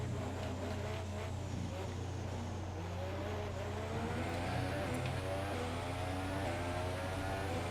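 Formula 1 car lapping a circuit in F1 2017, a steady engine drone whose pitch rises and falls through gear changes, heard continuously from close by with faint talk underneath.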